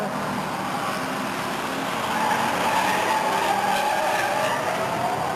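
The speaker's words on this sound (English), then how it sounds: "Sullivan spins in front of the grandstands, and Julie Horton drove right on by her." A race car spins out in front of the grandstands at a Stockton 99 oval race in 1999, tires squealing and skidding in a long, loud smear over the roar of passing engines.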